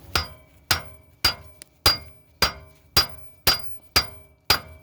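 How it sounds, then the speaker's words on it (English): A hammer striking the outer tie rod end of a 2004 Ford Explorer Sport Trac XLT 4.0L, nine sharp metallic blows at a steady pace, each ringing briefly and close by. "normally you would hit around here on the outer side of this, kind of like that."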